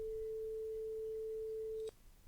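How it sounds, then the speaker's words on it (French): A steady 440 Hz sine test tone generated in Audacity holds at one pitch for nearly two seconds, then cuts off abruptly with a faint click, leaving only low background hiss. "Ce sont deux signaux à 440 Hz."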